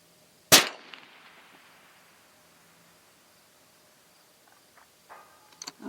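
A single sharp rifle shot from a Spartan 260 or Tikka TAC A1 cracks loudly nearby and rings away across open ground toward a portable steel target 1,125 yards off, followed by quiet with faint clicks.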